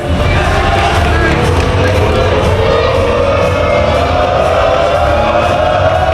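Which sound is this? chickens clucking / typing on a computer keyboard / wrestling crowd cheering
wrestling crowd cheering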